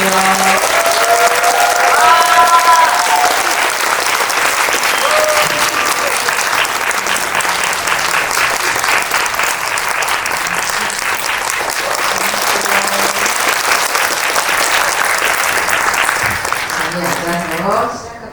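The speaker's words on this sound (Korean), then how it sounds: "큰 박수로 맞이해주세요" A film preview audience gives loud, sustained applause as the director and two actors are welcomed for a post-screening talk. Dense clapping carries on for nearly twenty seconds with crowd murmur and occasional voices underneath, then tapers off at the end.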